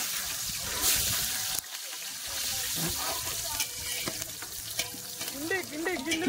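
Green chilies, onion and other ingredients sautéing in oil until golden, a loud close sizzle with clattering stirs and some watery hiss, plus a brief voice in the background.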